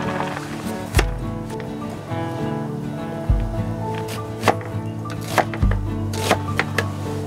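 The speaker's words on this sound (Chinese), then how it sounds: "切洋葱。" A knife chops onions on a board during an outdoor spring French cooking session, with several sharp, close thwacks spaced irregularly over a sustained musical background.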